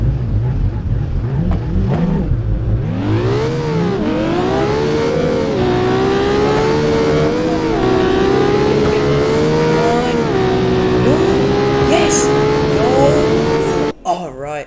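A car engine in the BeamNG.drive video game revs hard on a quarter-mile run, climbing through gears with rising and falling pitch, loud and close. A brief tire squeal and a voice come near the end.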